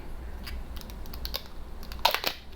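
Protective film is pulled off a new SkullShaver in quick crinkly crackles and ticks, close up, growing busier toward the end over low background hum.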